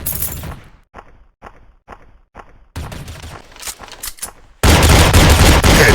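Shotgun blasts in a video game, several sharp separate shots with short gaps, then a denser flurry of firing and a loud sustained burst of noise at the end.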